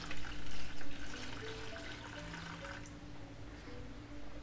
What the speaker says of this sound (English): So just slowly pouring it in.